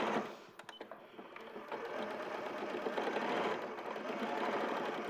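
A sewing machine stitches steadily around the edge of a fabric lining, a fast even whirring rattle heard close up with faint talk behind it.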